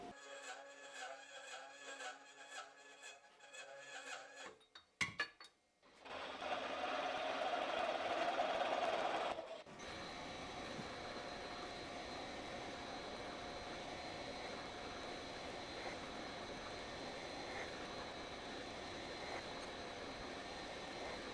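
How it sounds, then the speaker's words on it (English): A slitting saw on a milling machine cuts through salvaged cast iron with a steady grinding whir and chatter, starting after a few bumps and a short louder burst as the cut begins. "I'm going to use the slitting saw to cut it off."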